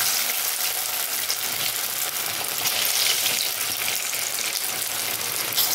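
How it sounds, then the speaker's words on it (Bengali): Round flat-bean koftas fry in hot oil. A dense, even, bright hiss of bubbling oil holds steady and close for several seconds, with no voices. "আমি এখন এখান দিয়ে একটা একটা করে কোপ্তা গোল গোল আকার করে কোপ্তার আকারে ভেজে নেব"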